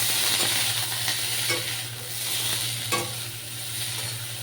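Food sizzles steadily in a hot pan while a utensil stirs and scrapes it in a few distinct strokes, with no talking.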